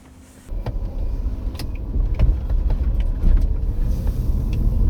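A car engine starts pulling away, a low rumbling drive with some clicks and rattles from inside the vehicle.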